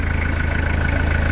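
A Toyota Hilux diesel engine idles close by, a steady low rumble with an even, rapid pulsing beat and no voices.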